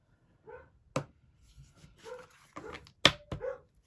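A female dog barks and yips nearby, a handful of short sharp barks mixed with softer whining yelps at uneven intervals, alone without speech.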